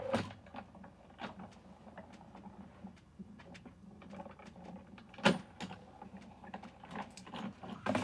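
A BetterPress letterpress plate is run through a hand-operated press machine, producing a series of soft mechanical clicks, rattles and clacks at close range, with one sharper snap partway through.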